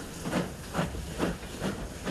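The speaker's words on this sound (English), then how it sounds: "It wasn't this exact steam train, but it was one just like it" A steam engine passes through a railway station, giving steady hissing steam with four rhythmic chuffing pulses about half a second apart, moderately loud and without voices.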